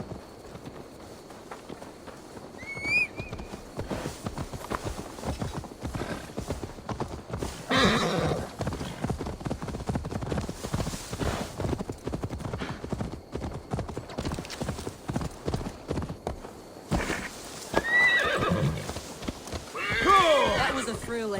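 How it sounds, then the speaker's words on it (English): Hooves clip-clop in a steady galloping rhythm with a horse whinnying a few times, all under music and occasional talking in Assassin's Creed Valhalla. "Now to deliver Magni his horse"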